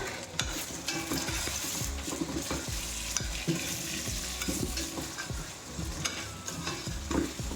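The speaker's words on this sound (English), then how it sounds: "Okay, and I'm just going to stir it all in." A spoon stirs through potatoes and spices frying in a pot, with scraping strokes over a continuous sizzle.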